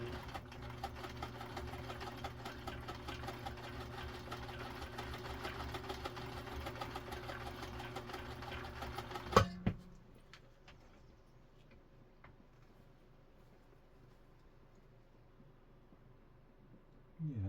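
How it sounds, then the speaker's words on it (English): A Viking Husqvarna 2000 sewing machine stitches a wide zigzag in a loud, steady, fast mechanical whir that runs for about nine seconds, stops with a clunk, and leaves quiet room noise. "We're going to add some stitch width and make a zigzag."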